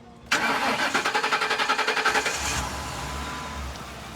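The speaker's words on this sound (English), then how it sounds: "I want you to hear the engine, and I always like to know if they run or not" A 2008 Ford Crown Victoria Police Interceptor with collision damage, running on fuel poured into the intake, cranks with a rapid rhythmic starter whir, fires up, and settles into a low, steady idle, heard close and alone.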